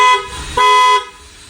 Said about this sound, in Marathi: आम्ही लावलाय क्रेटाचा हॉर्न.